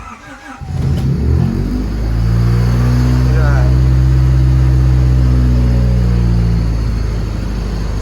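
A Honda Civic engine idling in neutral with an idle fault surges from a high rev and settles into a loud, steady drone, the engine close and dominant while someone talks over it at the start.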